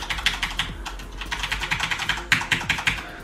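Rapid keystrokes on a loud Corsair K70 RGB mechanical keyboard at a rendering PC, a steady clacky run of sharp taps with a brief burst near the end, close and alone without talk.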